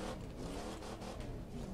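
Car engine driving in a video game, a steady droning motor hum with slight pitch changes, continuous and fairly faint, with no one talking.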